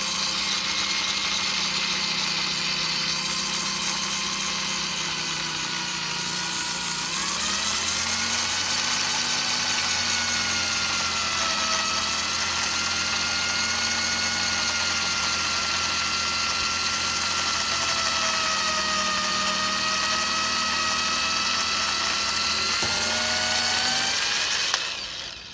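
A power drill bores a pilot hole up into a ceiling for installing a hook, a steady close whine running continuously for about twenty-five seconds with slight pitch shifts as the load changes, then stopping abruptly.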